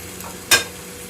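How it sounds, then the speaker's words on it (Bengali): Bread slices fry in ghee in a pan, giving a faint steady sizzle, with one short scrape or stir cutting in briefly midway; close, quiet and without speech. "তাই ঘি দিয়ে ব্রেডগুলোকে ছাটা হচ্ছে।"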